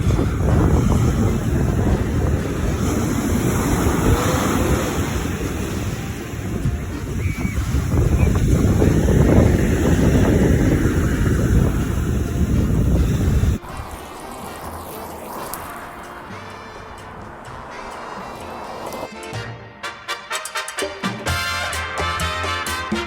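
Ocean shore ambience with strong wind buffeting the microphone and steady surf roar for about half the time, then a quieter, thinner outdoor scene with faint rustle.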